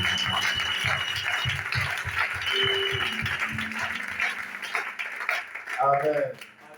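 A church congregation claps along in steady rhythmic beats while acclaiming the Lord, with voices and cheering over the clapping before it trails off into a few spoken words.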